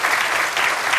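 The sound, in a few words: audience applause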